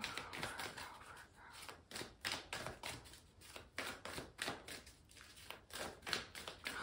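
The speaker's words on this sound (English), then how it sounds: "Oh, yeah, I'm shuffling." Tarot cards shuffled in a steady series of soft, rapid papery taps and slaps, close and quiet, with no talking.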